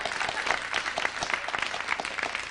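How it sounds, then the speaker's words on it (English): A comedy show audience applauds in a dense, continuous wash of many hands clapping, fairly loud and even throughout, with no talking over it. "Applaud if you've seen it."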